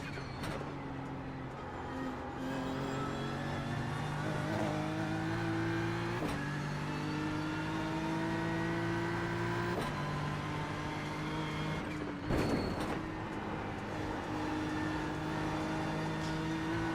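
A BMW race car engine in a racing game, running for about seventeen seconds with repeated rising gear pulls, each shift marked by a brief break, and a loud blip near the end, steady and close.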